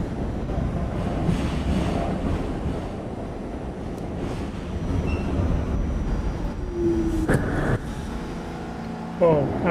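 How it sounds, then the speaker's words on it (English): An R32 subway train rumbles loudly through a station, with a rattling, roaring passage that builds and holds, then brief squealing tones near the end as voices carry over the noise. "I heard that R32 come out of nowhere."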